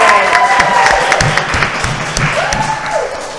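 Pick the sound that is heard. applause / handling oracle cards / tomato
applause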